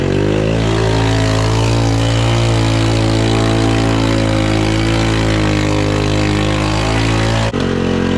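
A built Honda four-wheeler ATV engine stuck in fourth gear drones loud and close at a steady pitch for several seconds, with a brief dip in the sound just before the end.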